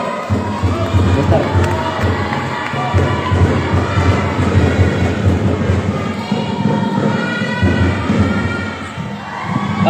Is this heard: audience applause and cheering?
yes